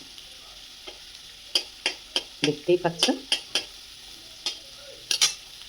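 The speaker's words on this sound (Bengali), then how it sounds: "এই যে ভালো করে ভাজা ভাজা করে নেবো" Potatoes being fried in a pan: a low sizzle underlies a series of sharp spatula scrapes and clacks against the pan, spaced irregularly, with a brief spoken remark among them.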